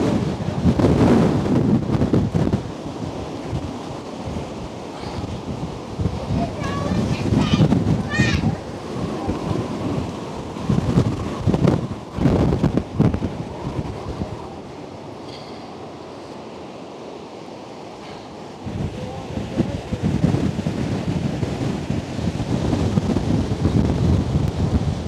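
Storm surge at Crystal Beach sends waves crashing over the shore in loud, rolling roars, with heavy wind buffeting the microphone throughout and brief lulls between surges.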